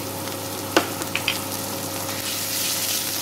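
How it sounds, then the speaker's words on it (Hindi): Ginger garlic paste frying in a pan for tomato chutney, with a steady sizzle and a few faint clinks of stirring and no voices. "अब इसमें हम अदरक लहसुन का पेस्ट डाल देंगे।"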